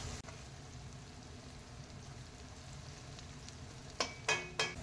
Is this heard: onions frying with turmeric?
yes